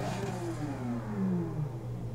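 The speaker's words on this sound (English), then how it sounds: "I think it sounds like the V12 from the Aventador" A 1954 Jaguar D-Type engine in Forza 6 revs and accelerates, a loud, close mechanical drone with a steadily shifting pitch as the car picks up speed.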